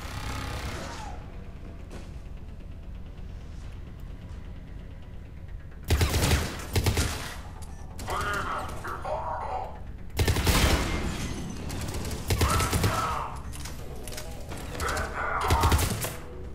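Enemy turret fire in the video game Mass Effect 3, bursts of loud rapid gunfire erupting in several separate volleys over a steady background hum, with no talking.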